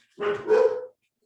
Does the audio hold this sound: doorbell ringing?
no